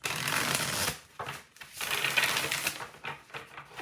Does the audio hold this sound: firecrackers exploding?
no